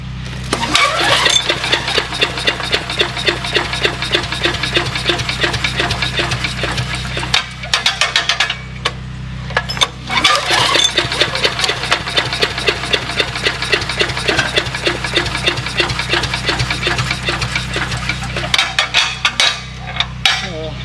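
An abandoned wood chipper's Briggs & Stratton 6.5 OHV engine sputters and catches in two long bursts of rapid, rattling firing. A short dropout separates the bursts, and the sound is close and loud with no talk.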